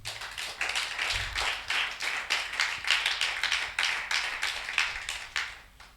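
A church congregation at a worship service claps together in a steady rhythmic beat, many hands close and loud, with light voices beneath.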